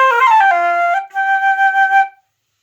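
A flute plays a short melodic phrase: a quick run of clear, close notes settling into a brief sustained tone, then a few more held notes that stop cleanly, played alone with no talking.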